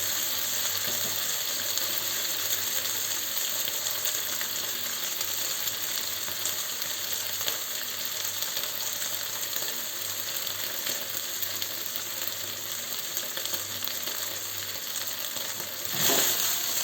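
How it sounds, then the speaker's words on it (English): Beef pieces frying in a hot pan, giving a continuous, even sizzle with a faint crackle throughout and a brief clatter near the end. "You want the beef basically just cooked a little bit on the outside"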